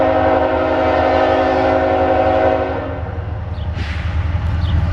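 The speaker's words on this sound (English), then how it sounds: "We got a train coming." A southbound Norfolk Southern intermodal freight train in Marion, Ohio rolls past close by with a loud, sustained horn over a heavy rail rumble. The horn drops away partway through.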